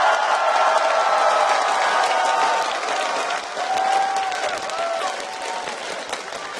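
An esports arena crowd at a 2012 world championship final cheers and applauds for a team, a dense, loud wall of clapping and shouting that gradually thins toward the end.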